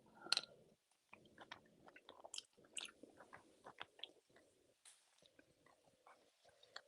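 Close, moist chewing of tender beef stew with irregular smacking and squishy bites, steady and quiet, no talking.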